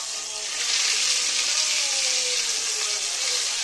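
Turkey zrazy meat rolls fry in a pan with a continuous, bright sizzle that swells slightly after the start and stays steady and close, with no voices over it.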